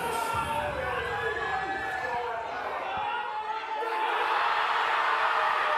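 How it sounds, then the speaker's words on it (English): Crowd roaring and cheering at a powerlifting team championship as a lifter grinds through a heavy attempt, a loud sustained wall of voices with whoops, swelling further toward the end. "The crowd is going absolutely bonkers."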